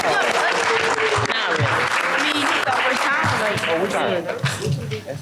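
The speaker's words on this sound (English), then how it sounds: "Everyone give them a round of applause." Audience at a district quiz bowl competition applauds a team: loud, dense clapping filling the room, with voices and chatter mixed in throughout.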